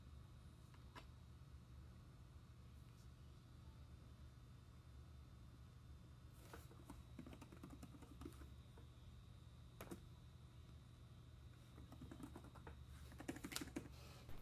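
Keys clatter on a Vilros wireless keyboard used with a Raspberry Pi 4 all-in-one setup: quiet, irregular runs of light taps with a few sharper strokes, near and soft in a hushed room.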